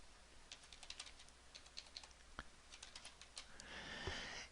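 Quick, light keystrokes tap on a computer keyboard in a steady run of clicks, faint and close with no voices, ending in a soft rustle.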